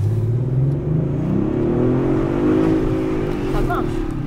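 Car floored and accelerating hard, a loud close engine roar climbing steadily in pitch, with a voice speaking over it.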